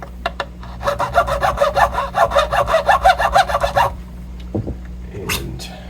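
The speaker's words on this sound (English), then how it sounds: "Let's cut in those notches." Notches are cut by hand for a tuner replacement on a Gibson Firebird guitar, a rapid run of rhythmic rasping saw strokes close up, followed by a few faint scrapes and clicks.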